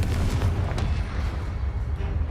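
A Confringo fire spell from Hogwarts Legacy detonates in a loud, booming explosion at the start, its deep rumble rolling on and fading slowly over the whole short stretch, with no voices.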